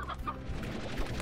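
Chicken-like creatures called Roostros and Hen Hens in the video game Slime Rancher cluck in short, repeated calls over a dense in-game background hum, no talking.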